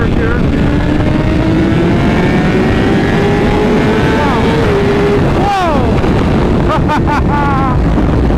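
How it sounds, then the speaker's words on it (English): A BMW HP4 motorcycle with an ECU flash is ridden and downshifted, its steady engine drone broken by quick rev blips near the end, all under heavy wind rush at the microphone. "See if I can downshift here a little bit."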